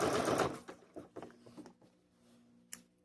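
A sewing machine stitches a serpentine blanket stitch on quilt binding, with a loud burst of rapid stitching at the start followed by a few softer, slower stitches and clicks, close by and with no talking.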